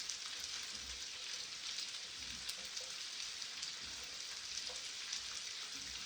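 Shrimp, sausage and vegetables fry in a skillet, giving a soft, continuous crackling sizzle with scattered small pops, fairly quiet and with no talking.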